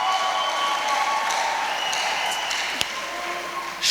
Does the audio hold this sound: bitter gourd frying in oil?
no